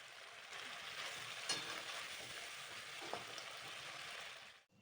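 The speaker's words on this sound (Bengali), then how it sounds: "আবারও দ্বিতীয় ধাপের কাঁকড়াগুলোকে একইভাবে ভেজে আপনাদের কাছে ফিরে আসছি" Crabs sizzle and crackle steadily in hot oil, a continuous frying hiss with a couple of sharper pops, close by and with no talking.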